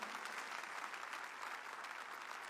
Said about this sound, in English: Put your hands together and clap for Jesus.